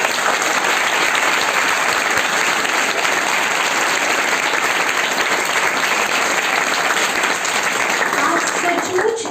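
A large audience of girls applauds loudly and continuously at a voter-awareness event, a dense, even roar of clapping that holds steady throughout.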